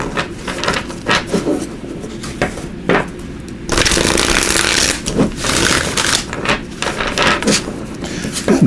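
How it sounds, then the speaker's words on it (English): Tarot cards being shuffled up close: papery riffling and slapping bursts, with a longer steady shuffle in the middle, against a faint background hum. "So let me just give these a shuffle."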